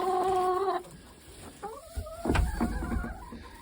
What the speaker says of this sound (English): And then inside we got some more chickens.